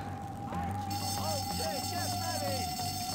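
A fire alarm in the video game Bully rings steadily as a continuous electronic tone that holds throughout, with game noises and chatter behind it.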